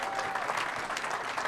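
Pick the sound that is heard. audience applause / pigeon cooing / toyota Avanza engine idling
audience applause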